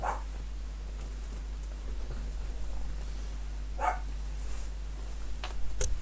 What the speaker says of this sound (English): let me just go and bring these dogs in